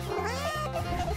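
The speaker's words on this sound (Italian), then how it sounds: "Un dolce gattino, vieni con noi." A kitten in a children's craft and animation setting gives two or three drawn-out, close meows in quick succession, loud and clear with no talk over them.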